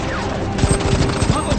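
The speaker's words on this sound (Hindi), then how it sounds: "हम पर गोलियां चल रही हैं।" Gunfire in a Hindi-dubbed action thriller, a burst of sharp cracks and impacts erupting after a quiet start and continuing through the rest, mixed under the scene's sound.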